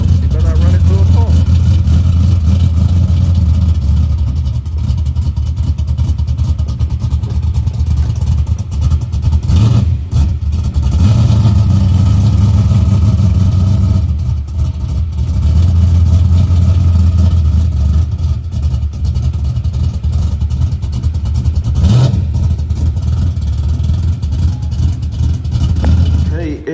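Car engine running steadily while driving an Air Tran, a low constant drone with small rises and dips in revs, people talking over it throughout.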